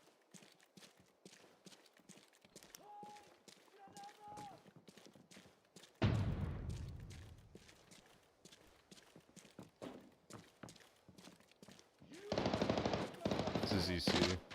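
AK rifle fire in a video game comes in two sustained rapid bursts, a long rattle midway and another near the end, over quieter in-game clatter and faint voices.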